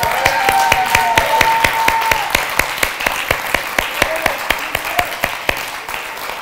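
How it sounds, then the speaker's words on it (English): A church congregation claps hands in a steady, even rhythm, sharp claps repeating quickly for several seconds over a faint murmur of voices. "Give Jesus a hand clap right now"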